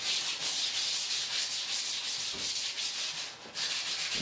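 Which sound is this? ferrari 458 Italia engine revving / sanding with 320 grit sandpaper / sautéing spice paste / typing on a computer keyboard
sanding with 320 grit sandpaper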